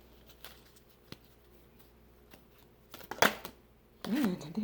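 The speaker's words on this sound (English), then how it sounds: "These are just a little difficult to shuffle." A deck of oracle cards is shuffled by hand, giving soft papery rustles followed by a few sharper riffling bursts close to the listener.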